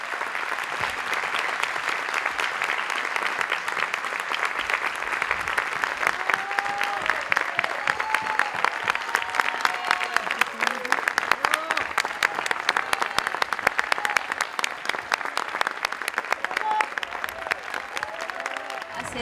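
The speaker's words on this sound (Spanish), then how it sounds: "La recibimos con un fuerte aplauso." Audience in a theatre at Valparaíso's Parque Cultural applauds steadily for nearly twenty seconds, a dense, even wash of clapping with faint voices mixed in.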